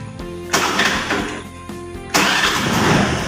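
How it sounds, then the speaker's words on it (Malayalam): A Honda Aviator scooter's self-starter cranks and the engine catches, two loud bursts of starter whir and engine noise with a short lull between, close to the listener. "ഞാൻ ജസ്റ്റ് വണ്ടി ഒന്ന് സ്റ്റാർട്ട് ചെയ്ത് കാണിച്ചു തരാം"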